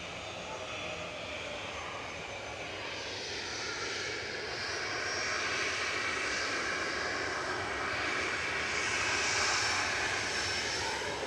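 An EasyJet jet airliner departing Manchester Airport produces a sustained jet engine roar that gradually builds in loudness and shifts in tone as it passes, heard alone without speech.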